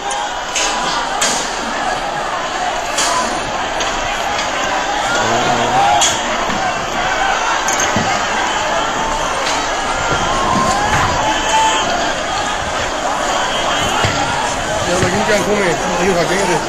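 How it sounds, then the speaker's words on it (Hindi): Crowd shouting and yelling continuously outside a court in Panchkula amid tear gas, a dense, loud roar of many voices with scattered thumps and shouts throughout. "आप ये देख सकते हैं और चिल्लाहट को सुन सकते हैं इन तस्वीरों के अंदर।"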